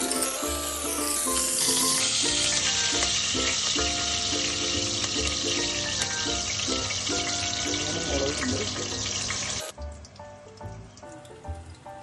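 Pieces of Afghani-style mutton fry in a hot pan with a loud, dense, steady sizzle and crackle that suddenly cuts off near the end, leaving quieter scattered sounds.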